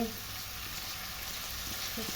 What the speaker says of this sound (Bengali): এখন আমি ডালটা দিয়ে ডালটাও একটু ভেজে নিই